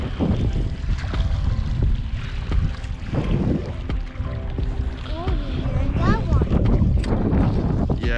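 Wind gusts buffet across a lake heard from a small fishing boat, a steady loud rumbling roar with water lapping and a few faint higher sounds rising over it near the end.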